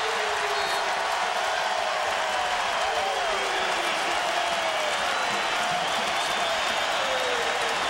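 A basketball crowd at a Syracuse Orange home game against Pitt roars and cheers steadily throughout, a dense, loud wash of arena noise with a commentator talking over it.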